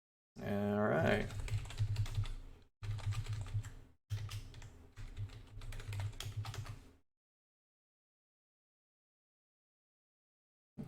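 Rapid clattering keystrokes on a computer keyboard, close and fairly loud, in bursts separated by short pauses, then silence for the last few seconds.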